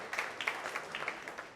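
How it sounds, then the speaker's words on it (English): A small indoor audience at a tournament launch in a sports bar claps briefly and fairly faintly, a short patter of scattered hand claps with no talk. "I can see somebody cheering that."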